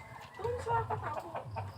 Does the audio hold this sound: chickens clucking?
yes